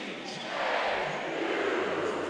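Arena crowd at a men's Big Ten hockey championship game between Michigan and Ohio State roars in a broad, sustained wash that swells after the first half-second and holds loud throughout, with no clear words.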